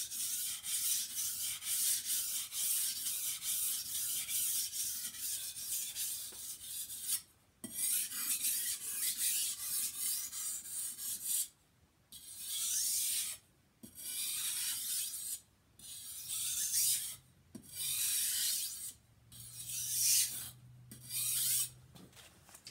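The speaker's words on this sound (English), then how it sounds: "that's the coarse stone work" A kitchen knife is sharpened on a coarse whetstone with light pressure, steady rasping strokes running continuously at first, then broken into short separate passes with brief pauses between them.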